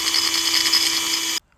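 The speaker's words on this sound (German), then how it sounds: "bohrt hier einmal vor mit einem halben Millimeter" A power drill bores into a stripped Allen screw with a bit half a millimetre smaller, a steady high-pitched whine running close and loud before stopping abruptly.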